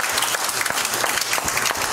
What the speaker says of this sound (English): Give the Lord a hand clap this morning.